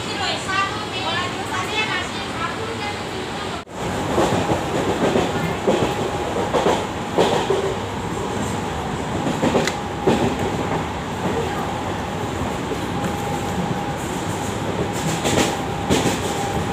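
Rhythmic clickety-clack of wheels rolling inside a moving train carriage, a steady rumble running throughout with children's voices and chatter over it.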